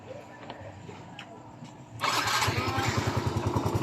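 A Yamaha Mio i 125 scooter engine with error codes 19 and 15 is push-started, sputtering to life halfway through, then settles into a fast, steady putter that grows slightly louder; light background noise precedes it.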